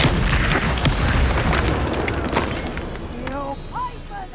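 The Descendo spell being cast in Hogwarts Legacy, a loud booming magical impact that fades over a few seconds, followed by a few short whooshing tones.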